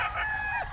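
A late-born banded gamefowl stag crows once, a short, clear, close crow with a rising then falling tone.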